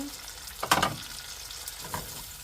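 Pork with seasoning simmers in a frying pan as a faint, steady sizzle, broken by a couple of soft scraping stirs of a utensil.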